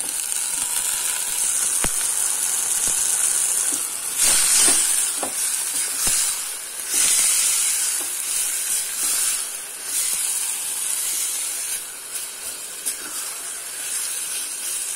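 Pigeon meat hitting a pan of frying onions, a steady close sizzle with hissing steam and occasional clicks and scrapes from stirring, loudest bursts early on before settling into continuous frying.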